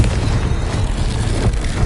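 A Confringo blasting spell explosion in Hogwarts Legacy, a loud, dense booming roar with heavy low rumble that stays steady for about two seconds, close and without talk.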